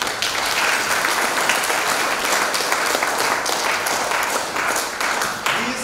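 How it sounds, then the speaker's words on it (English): A sustained round of applause from an audience at a youth entrepreneurship awards event, dense and steady clapping filling the room for about six seconds without a break. "I believe that deserves a round of applause"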